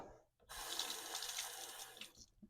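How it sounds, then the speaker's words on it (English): Water from a tap runs steadily for about two seconds as a safety razor is rinsed under it, a close, loud broadband gush that starts abruptly and cuts off near the end. "Let me rinse this off."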